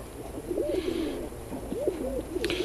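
A tame pigeon hen in a loft gives two soft, close rolling coos, with faint flutter and ambient noise behind.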